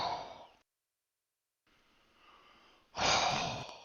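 A voice imitates heavy, deep breathing during a rainy tabletop horror scene: a long breathy exhale, a pause of silence, then a slow rising inhale and a louder, rough breath out, close and fairly quiet.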